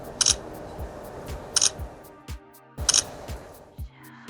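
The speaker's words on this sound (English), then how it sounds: "Wow, it's a loud shutter." An Oppo Reno10 Pro+ phone camera fires its loud, mechanical-style shutter three times, each a sharp click-clack roughly 1.3 seconds apart, over steady outdoor background noise near a mosque.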